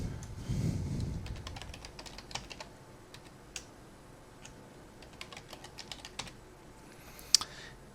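Typing a password on a computer keyboard: a steady stream of light key clicks, close and quiet, with one sharper keystroke near the end and no talking.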